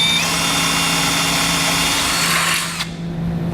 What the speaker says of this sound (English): We'll need to drill out both of these holes on each side using a 3/8 inch drill bit.